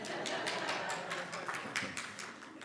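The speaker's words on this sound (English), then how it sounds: "One woman is just clapping." A single woman claps steadily in a room, about a dozen crisp hand claps at an even pace, moderately close, with a faint murmur of background noise and no clear speech.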